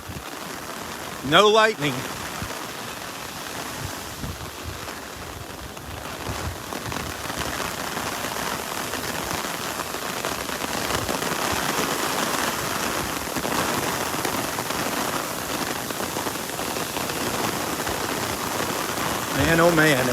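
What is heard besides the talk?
heavy rain hitting an umbrella on the beach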